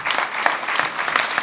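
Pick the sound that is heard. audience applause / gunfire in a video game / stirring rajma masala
audience applause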